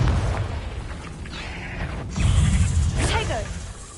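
Confringo blasting spell going off in Hogwarts Legacy, a booming burst with a whoosh and rumbling low end, followed by a second swelling blast, loud and close.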